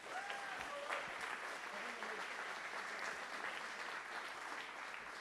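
Audience applause at a French political party convention, a steady crowd clapping for two parliamentarians, sustained and fairly even for about five seconds, with faint voices mixed in underneath.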